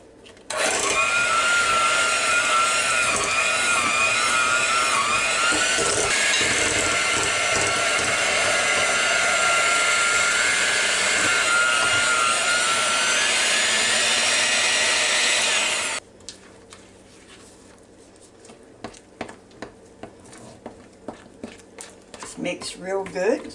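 An electric mixer whirs loudly and steadily through apple pie muffin batter for about fifteen seconds, its pitch wavering as it works, then cuts off, leaving quiet clinks and handling noises.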